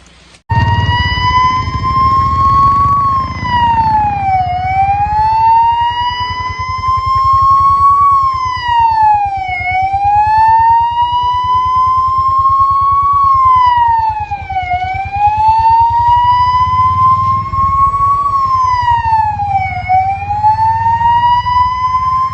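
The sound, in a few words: ambulance siren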